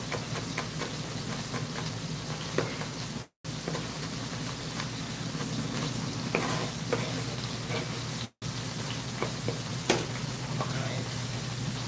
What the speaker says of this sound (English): let's stir this now and make sure it gets the color that we desire on each side